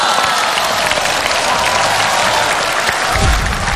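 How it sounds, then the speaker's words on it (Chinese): Dense, steady applause from a studio audience greeting a guest onto a stage, loud and continuous throughout, with a low thump near the end. "来来来，我们掌声有请杰希"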